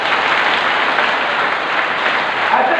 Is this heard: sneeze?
no